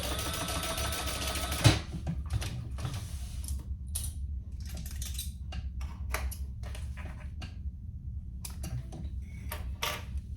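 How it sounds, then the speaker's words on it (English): A sewing machine basts a top sling connector in place on a baby sling, its mechanism ticking and creaking in short bursts after an opening run, steady and close with no talk. "now we're just gonna baste that top sling connector in place"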